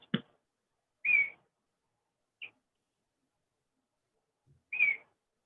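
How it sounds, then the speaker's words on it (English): A bird outdoors gives a few short, clear whistled notes spaced about a second apart, faint and alone against near silence. "I hear that bird, Brian."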